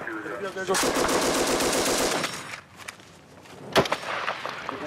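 Sporadic gunfire from a building in a battle zone: a sustained burst of rapid automatic shots, loud and sharp, then a quieter gap and one more heavy crack, all outdoors with some distance.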